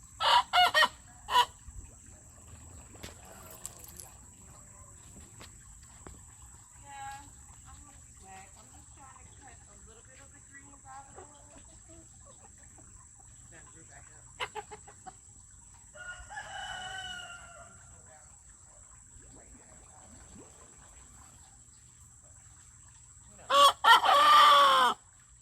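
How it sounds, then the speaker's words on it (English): Two young roosters practice crowing in short, ragged bursts, loud at the start and again near the end, with a few scattered faint calls and insect chirping in between. "what we've been hearing is 2 new roosters learning to crow"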